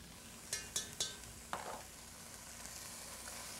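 Vegetables and chopped garlic sizzle softly in a pan while being stirred, a few sharp clinks of a utensil against the pan standing out over a faint steady frying hiss.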